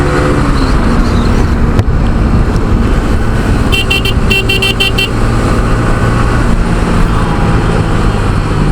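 A motorcycle rides along a highway between Savar and Dhamrai in Bangladesh, with steady loud engine and wind noise, passing traffic and a burst of repeated horn toots midway.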